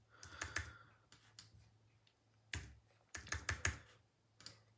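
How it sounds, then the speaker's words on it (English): A computer mouse and keyboard give a few quick clicks and taps in short clustered bursts, close and fairly quiet, with pauses between. "Couple of clicks."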